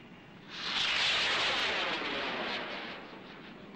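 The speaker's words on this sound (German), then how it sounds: "Der Wind ist ja gemein." Wind gusts across an outdoor microphone in a broad, rushing roar that swells after half a second, holds strongly, then slowly eases toward the end.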